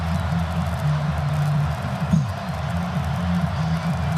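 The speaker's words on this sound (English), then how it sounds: "Crowd in a roar" A packed stadium crowd roars steadily at an Oklahoma State at Oklahoma college football game, a dense, continuous wash of cheering voices with no break.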